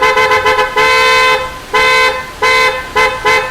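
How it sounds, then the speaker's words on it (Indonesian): Signature Series car horn with a deep, heavy European-style tone, blown in several separate honks: a few short toots, then longer sustained blasts, loud and close with no talk. "Pengepul mobil juga punya tipe klakson yang lain nih, yaitu Signature Series."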